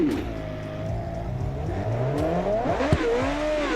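Twin-turbo V8 car engine in the BeamNG driving game revving hard, pitch climbing and sweeping through the gears with a continuous loud roar and a sharp spike near the end.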